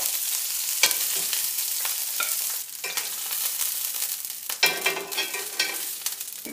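Tuna steak sears in a hot pan, a steady crackling sizzle broken by sharp pops and a brief scrape of moving food, with no one talking.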